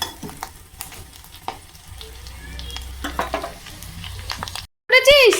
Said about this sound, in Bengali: ফাটছে চটচড় করে